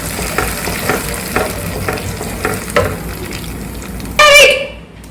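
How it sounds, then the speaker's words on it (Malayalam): Pumpkin sautés in ghee in a pan, giving a steady sizzle under repeated scraping strokes of a stirring utensil, close by, ending with a brief sharper clatter. "ഇനി ഇതിനൊന്ന് നന്നായിട്ട് വഴറ്റി എടുക്കാം."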